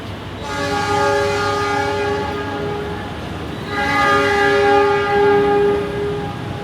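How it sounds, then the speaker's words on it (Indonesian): A Parahyangan passenger train bound for Bandung sounds its horn loudly in two long sustained blasts, a rich chord of tones with a short gap between them, over steady rail rumble. "kereta Parahyangan dengan tujuan akhir stasiun Bandung siap diberangkatkan"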